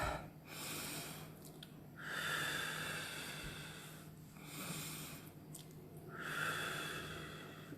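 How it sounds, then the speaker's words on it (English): Slow, deep breaths are heard up close, with long airy inhales and exhales in a steady rhythm, about three full cycles separated by brief pauses, quiet and with no talking. "And then take a few deep breaths."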